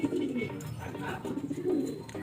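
Racing pigeons in a loft coo in low, soft, repeated rolling calls close by, steady over a faint background murmur.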